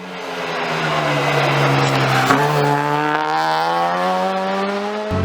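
K20-swapped 1996 Honda Civic EK hatch race car accelerating, the engine's pitch rising steadily with a loud, buzzy exhaust note heard from inside, ending in an abrupt cut as the throttle lifts.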